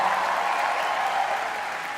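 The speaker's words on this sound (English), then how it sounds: "Round of applause for Ranveer Arjun." An audience claps steadily and loudly throughout, a dense wash of applause at a comedy roast event in front of a live crowd.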